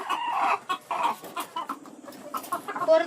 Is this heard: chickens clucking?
yes